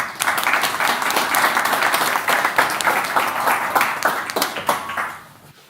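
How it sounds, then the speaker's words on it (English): A round of applause from a conference audience at a research forum, a full crowd clapping steadily before thinning and fading out at the end. "Please give him a round of applause."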